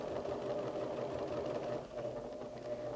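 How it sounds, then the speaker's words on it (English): A sewing machine runs steadily close by, stitching a jacket with a continuous fast mechanical whir that stays even, then dips slightly near the end. "I'll release another section and just keep sewing."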